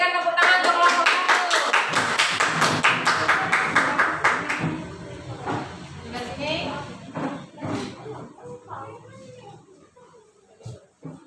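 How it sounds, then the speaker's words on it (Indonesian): Children in an elementary school classroom clap for the first group, a loud burst of scattered hand claps with voices mixed in that fades after a few seconds into chatter and quieter movement. "berikan tepuk tangan untuk kelompok 1"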